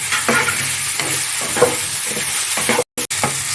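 Green chillies slit and dropped into a pan of Bengali folui fish curry with new potatoes, giving a steady close sizzle with stirring scrapes and a brief cut near the end.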